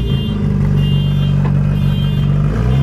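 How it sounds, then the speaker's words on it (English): A Porsche 911 Turbo with makeshift turbo support work runs loud from inside the car, a deep steady engine drone with a rumbling exhaust note that holds throughout, with no talking. "This car is aggressively loud on the passenger side."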